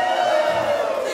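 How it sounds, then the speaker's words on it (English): A live rock concert crowd in Germany roars and cheers for the band, a loud, dense wash of voices and whoops filling the space without pause for about a second. "How about a big cheer for the band?"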